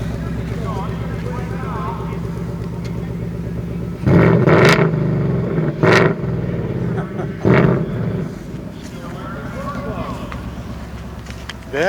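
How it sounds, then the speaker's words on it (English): A 2019 Ford Bullitt Mustang V8 revs sharply through its exhaust three times over a steady idle rumble, each burst loud and close, with people talking nearby. "And then rev it when I get back there a couple times, if you would."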